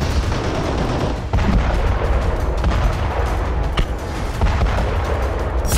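War-zone bombardment of a military base, dense continuous rumble with repeated heavy booms and bursts of gunfire, loud and close, no speech heard.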